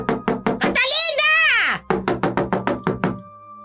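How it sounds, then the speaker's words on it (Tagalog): Loud, sharp knocks on a door, one rapid burst then a second longer run of evenly spaced raps, broken by a shouting voice in between. "Biglang may malakas na katok sa kanilang pinto."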